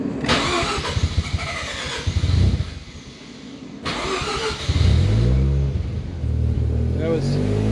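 Mazda RX-7 FC3S rotary engine cranking and firing up close by, with two starting attempts, the second catching and settling into a rough, revving idle. Someone speaks briefly.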